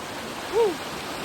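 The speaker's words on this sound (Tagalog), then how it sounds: "Hanapin yung falls." Water from Marilag Falls and its flowing stream makes a soft, continuous hiss in the background, with a brief vocal sound rising over it midway.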